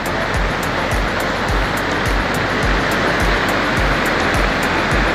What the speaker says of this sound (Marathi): हे बघा उसळतंय बघा कसलं पाणी